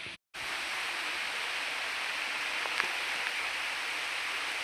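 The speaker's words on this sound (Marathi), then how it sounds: "फायनली पाऊस मोठा चालू झालेला आहे" Heavy rain falls suddenly and steadily in a dense, even hiss, with a brief dropout near the start and a few faint drip-like ticks over the wash.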